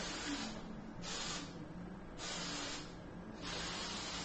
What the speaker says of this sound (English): I give it a spray.